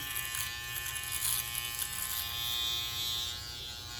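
An uno electric shaver runs with a steady high-pitched whirring buzz, constant and close throughout, with no voices over it.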